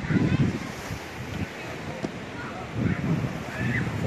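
Beach waves and wind at Playa Girón, Cuba, with surf washing in soft recurring swells under gusty wind noise on the microphone, a voice briefly present.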